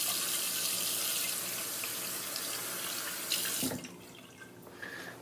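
Tap water runs steadily into a sink as soap is rinsed off after shaving, a close, even splashing that briefly changes near the end and then continues more softly.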